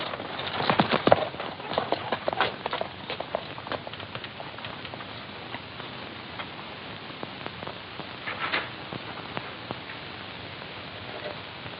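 Horses walking, a steady irregular clip-clop of hooves close by, moderately loud and continuous with no talking over it, set in a Western scene.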